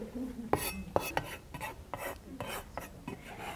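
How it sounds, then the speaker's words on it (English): Kaffir lime leaves finely minced with a knife rocked back and forth on a cutting board, a series of close, sharp chopping taps and scraping strokes in an uneven rhythm. "you run your knife over back and forth until they are finely minced"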